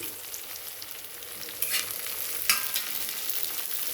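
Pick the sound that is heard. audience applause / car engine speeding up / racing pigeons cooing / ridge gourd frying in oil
ridge gourd frying in oil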